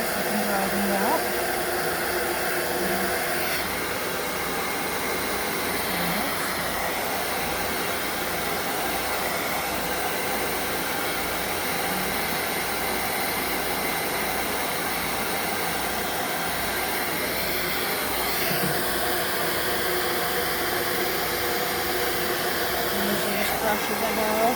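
A hair dryer blows steadily throughout while a pet is dried as it hides under something, a constant loud whooshing hum with a voice talking over it now and then.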